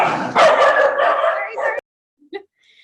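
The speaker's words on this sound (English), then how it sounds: "the dogs are going crazy" Several dogs yip and bark excitedly as someone comes in the door, a dense burst of loud, close barking and whimpering that cuts off abruptly, followed by a couple of brief faint yips.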